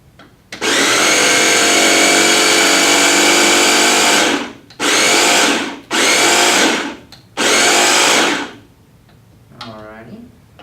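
A blender pulses ingredients in four loud bursts: one long whir of about four seconds, then three shorter pulses separated by brief pauses, with a faint voice at the end.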